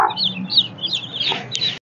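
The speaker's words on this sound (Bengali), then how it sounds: "আমাদের মুরগির কালেকশন তো দেখলেন।" Farm chickens clucking in a quick series of close, fairly loud calls with no talk over them.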